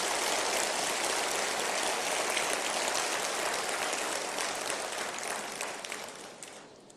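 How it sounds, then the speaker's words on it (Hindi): A large audience gives loud, dense applause to welcome India's Vice President at an electrohomeopathy event, a sustained roar of clapping that gradually fades toward the end. "एक बार जोरदार तालियों से आप उनका स्वागत करें।"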